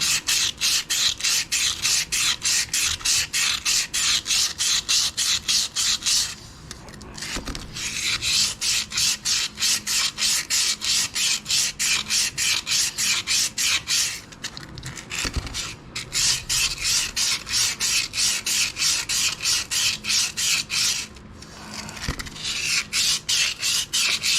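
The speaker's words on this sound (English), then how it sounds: "This is 80 grit sandpaper." Steady back-and-forth scuffing of 80 grit sandpaper across a Honda Helix scooter part, a loud rhythmic rasp of rapid strokes with two brief pauses, no talking.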